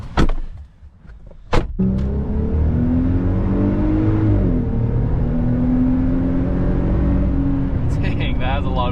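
A lifted 2020 Jeep Gladiator on 37-inch tires drives along with a steady, close engine drone and road hum after a couple of sharp knocks at the start, holding constant throughout.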